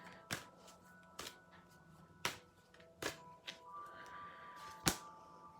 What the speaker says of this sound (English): talk about it while I shuffle the cards for each individual sign.